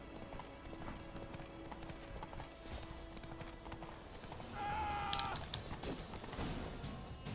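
Steady rhythmic clip-clop of galloping hooves in The Witcher 3 over a constant background din, with a horse's whinny rising briefly near the middle.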